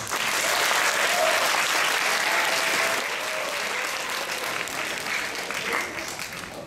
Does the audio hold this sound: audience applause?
yes